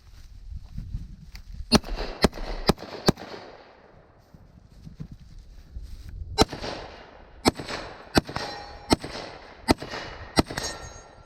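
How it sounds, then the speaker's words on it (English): FN SCAR 17 rifle fired outdoors in a series of sharp, loud single shots, several in an uneven rhythm, then a pause and another quick string of shots, with no talking. "Scar 17, let's do some shooting with it."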